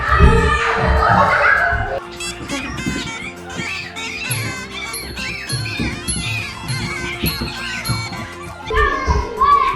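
Several young boys play rough and loud at home, with busy shrieks, squeals and chattering voices filling the room almost nonstop.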